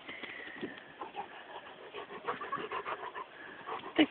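Dog panting on a farm, quick rhythmic breathy huffs, faint and close, continuing throughout with no voices over it.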